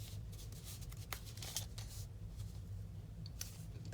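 Paper card stock is folded and creased for a slider card, giving soft scattered rustles and crisp crinkles, quiet and close under a low steady hum.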